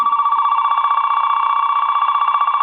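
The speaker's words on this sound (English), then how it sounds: "And as you can see, it's ringing on line 1." A Lucent two-line 272 telephone rings on line 1, a close, loud electronic trill warbling rapidly and continuously without pause.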